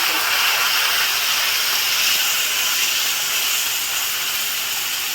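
A steady, loud hiss of steam fills the whole stretch without a break, like water hitting a very hot pan.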